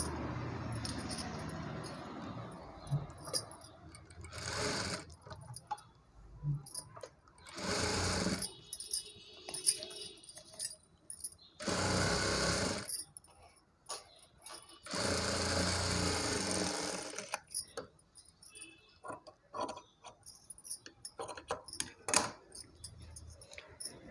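A sewing machine stitches a 0–2 month baby frock in repeated short bursts of rapid whirring, separated by quiet pauses and small handling clicks, close and moderately loud.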